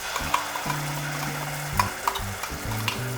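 Masala frying on low flame in a pan for a Goan shark ambot-tik fish curry, a constant close sizzle with occasional stirring scrapes and clinks, no talking.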